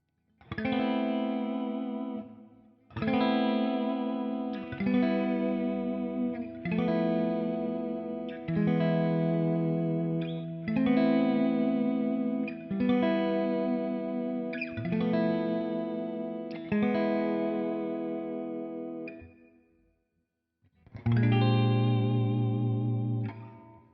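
Electric guitar chords on a Les Paul fitted with a Guyker TM85 tremolo, strummed in separate phrases with short gaps, each ringing out with a wavering, pulsing tone; nobody speaks.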